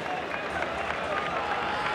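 A football stadium crowd at a Boca vs Banfield match applauds in a dense, roaring wash of clapping and crowd noise, with a commentator's voice over it.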